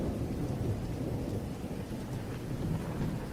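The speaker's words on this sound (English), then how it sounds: "Rain lashed against the windows of my attic apartment, a relentless drumbeat" Heavy rain beating against the windows of an attic apartment during a storm: a dense, steady hiss and patter with a low rumbling undertone, constant and fairly loud throughout, with no voices.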